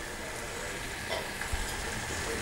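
Chicken fries in a pan as curry leaves and pepper go in, a steady soft sizzle with faint stirring scrapes, fairly quiet and without any talking.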